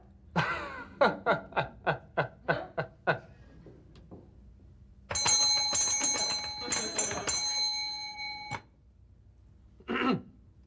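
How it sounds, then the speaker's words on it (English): A hand bell is rung indoors in a 1968 comedy sketch: a run of eight quick ringing strokes, then a longer burst of clanging peals, with a voice and a throat clearing in between and a short vocal sound at the end. "Aren't you going to ask me why I rang that bell?"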